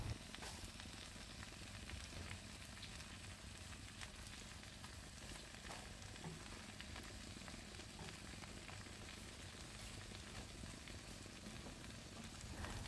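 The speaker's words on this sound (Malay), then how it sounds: "Masukkan pula kangkung." Fried rice with water spinach (kangkung) sizzles and crackles steadily in a hot pan for a home-style sambal belacan nasi goreng, a dense, even frying hiss with no talking.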